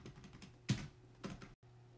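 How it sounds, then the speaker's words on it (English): Typing on a keyboard inside a house, heard as a few separate clacking bursts of keystrokes against a quiet background, fairly close. "And they heard some typing. What's that typing?"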